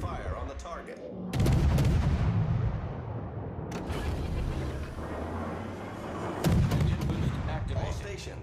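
Warship naval guns in World of Warships fire in heavy booming salvos, with big blasts near the start and again later over a continuous rumbling battle din, and radio-style voice lines faintly audible.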